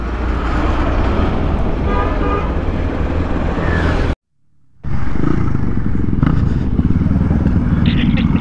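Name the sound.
motorcycles setting off on a group ride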